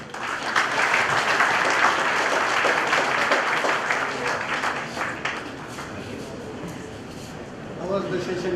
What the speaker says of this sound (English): So give them a big hand.